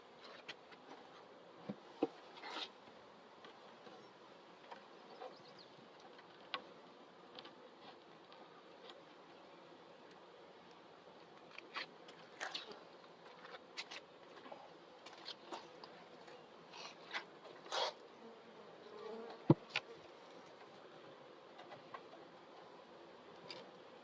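Bees moving around a hive, a soft continuous buzz with faint scattered ticks and taps from nearby handling, no voices.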